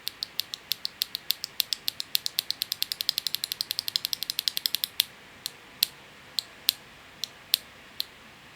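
Leobog Hi98 Pro aluminium keyboard with linear Rambo switches typed on close up, a fast run of crisp clacking keystrokes for about five seconds, then slower, spaced single key presses.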